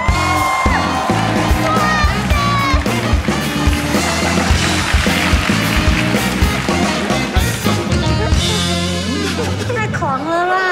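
A studio audience on a Taiwanese late-night talk show cheers and whoops over loud, continuous band music, with a steady crowd roar throughout and a host's voice partly heard.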